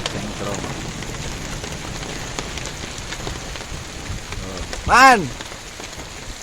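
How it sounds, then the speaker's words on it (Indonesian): Steady rain falls at a reservoir during a snakehead fishing trip, a constant close hiss throughout, with a short voiced exclamation rising over it near the end. "Hujan guys, dingin."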